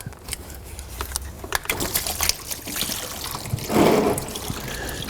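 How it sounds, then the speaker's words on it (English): Fluid draining from a Mini Cooper N14 engine during a bent valve repair, heard as a close, steady trickle and splash with a brief fuller gush partway through, along with clinks from handling. "Let it drain."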